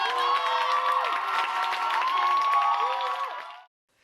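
An opera audience at a university vocal graduation recital bursts into cheers and bravos with applause after an aria, a dense, bright roar of voices and clapping sustained for several seconds before cutting off abruptly.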